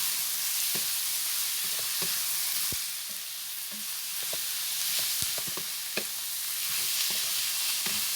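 Pork sizzling and frying in a pan for menudo while being stirred, with a steady hiss under scattered clinks and scrapes of the utensil against the pan.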